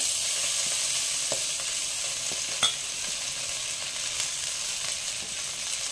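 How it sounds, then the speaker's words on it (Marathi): Fenugreek leaves sautéing in ghee in a pan give a steady, close, bright sizzle that runs unbroken, with a few faint stirring knocks and one sharper clack partway through; no one speaks. "तुपावर छान मेथी परतून घ्यायची।"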